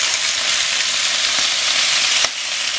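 Vegetable oil sizzles steadily in a frying pan, a loud, even crackling hiss throughout with a brief drop in level near the end.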